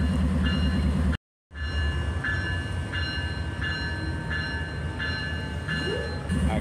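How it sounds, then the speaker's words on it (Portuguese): A passenger train at a station in Perpétuo Socorro, Belo Oriente, Brazil, rumbles past close by, its wheels clacking in a steady repeating rhythm over a continuous low roar. "Esse barulho que você está ouvindo é desse trem mesmo"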